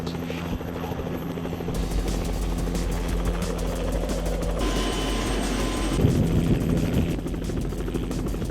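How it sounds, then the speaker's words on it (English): A helicopter's rotor thumps and whines steadily, loud and close, the engine roar swelling as it draws nearer. "Here comes the helicopter."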